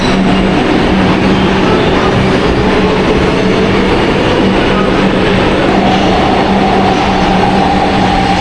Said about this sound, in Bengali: এই নোয়াপাড়া থেকে ট্রেন চলে যাচ্ছে দেখো দক্ষিণেশ্বরের দিকে।